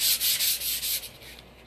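Abrasive sanding on a painted wooden furniture piece, a steady close scratchy rubbing in repeated back-and-forth strokes that fade slightly toward the end, with no talking.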